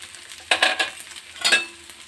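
Fried eggplant stirred in a pan with salt, turmeric and Kashmiri chili, two short scraping strokes of a spatula over a faint quiet sizzle.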